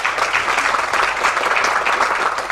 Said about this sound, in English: let's give a round warm of applause to Mr. Billimoria.